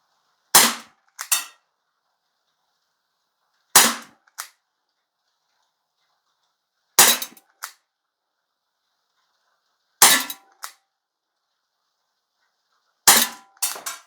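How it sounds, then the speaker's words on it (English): Crosman SNR357 CO2 revolver firing pellets single action: five sharp, loud pops spaced evenly about three seconds apart, each followed by a faint mechanical click, with silence between shots. "let's see what we can do with pellets. 6 rounds, downrange, single action"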